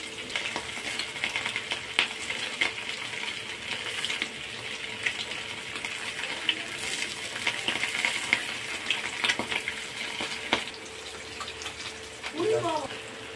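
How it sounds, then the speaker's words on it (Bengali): Pieces of Padma hilsa fish fry in hot oil, nearly done and reddened on both sides. A dense, continuous sizzle and crackle holds steady throughout, with a brief voice near the end. "মাছ ভাজাটাও আমার শেষের দিকে, প্রায় হয়েই গেছে। দুদিকে লাল লাল হয়ে গেছে।"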